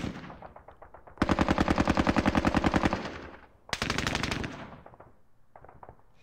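Sustained bursts of machine gun fire in John Tiller's Falklands, a game depicting a British night assault on Wireless Ridge, with rapid rattling volleys, a short pause, then another loud burst and scattered fainter shots, no talk.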